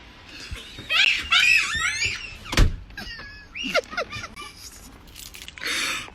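A door is shut in a home with a single sharp thunk near the middle, amid excited voices, shrieks and laughter throughout.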